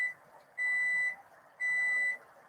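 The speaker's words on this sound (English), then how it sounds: "There's my timer." A kitchen timer, going off after a hot pan of sour candy syrup is taken off the heat, gives two steady, sustained electronic beeps about half a second each, clear and fairly close over a faint room hiss.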